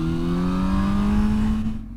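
A Honda Hornet motorcycle engine revs steadily, its rising drone loud and close for about two seconds before dropping off abruptly.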